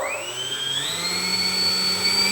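The electric motor and propeller of a repaired E-flite Air Tractor 1.5 m BNF RC plane whir loudly and close, the whine climbing in pitch as the throttle opens during a ground test run.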